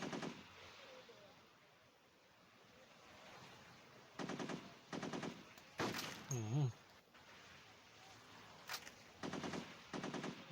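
Bursts of automatic gunfire from the Modern Sniper mobile shooter game, several short rapid volleys spaced apart over quiet background, with someone talking between them.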